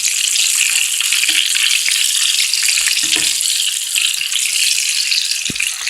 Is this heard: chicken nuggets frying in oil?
yes